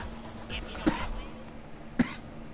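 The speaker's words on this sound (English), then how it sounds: "Sorry about coughing." A person coughs twice, about a second apart, each a short sharp burst in a quiet room with a faint steady hum underneath.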